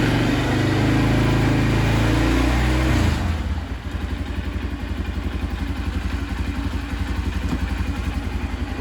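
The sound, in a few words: engine revving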